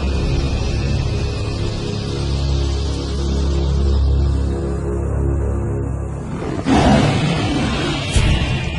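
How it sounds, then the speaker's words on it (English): Out in the wild, a lion lets out a low, sustained roar from a distance, rumbling steadily under a wash of ambient noise, with a brief sharper burst near the end. "This roar from afar is a sound that spells trouble."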